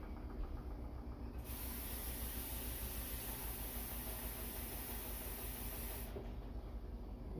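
A loud, steady rush of hissing steam fills the whole clip, with a sharp burst of bright hiss in the middle as water hits a hot pan in an oven baking sourdough bread.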